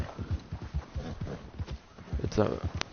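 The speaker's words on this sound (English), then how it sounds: "But this is one really good horse." Hooves of an Arabian horse clop steadily in Red Dead Redemption II, a rhythmic near patter heard beneath someone talking throughout.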